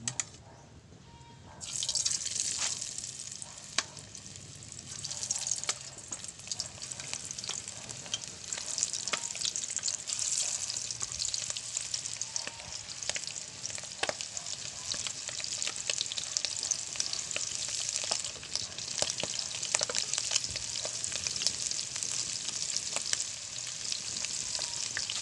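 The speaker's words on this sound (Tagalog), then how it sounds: "So, ito po, piprito na po natin." Steady, crackling sizzle of shrimp frying in hot oil continues throughout, with occasional sharper pops and spatters.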